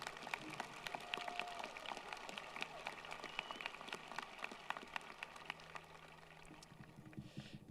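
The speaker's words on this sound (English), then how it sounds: "Let's give them a big round of applause" Graduation ceremony audience applauding, a dense, steady patter of many hands clapping heard at a distance and fairly faint throughout.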